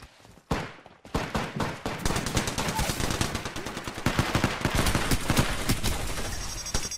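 Rapid automatic gunfire in Apex Legends, loud and dense, with bursts of shots running almost continuously after a short quiet opening.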